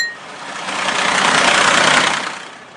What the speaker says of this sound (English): Tap the junk to stop the truck.